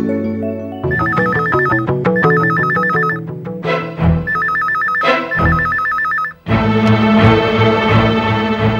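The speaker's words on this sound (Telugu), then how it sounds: "వెంటనే రవీంద్రకి ఫోన్ చేయమ్మా." A phone rings with a repeating electronic melody in bursts, loud and close, over backing music, with no one talking.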